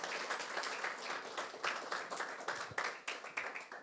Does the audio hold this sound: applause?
yes